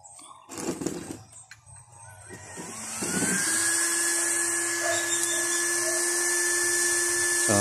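After a few clunks and clatters, the blower of a homemade waste oil stove, powered through a 12-volt adapter with a speed controller, spins up into a steady high-pitched whine and hum that holds close and constant.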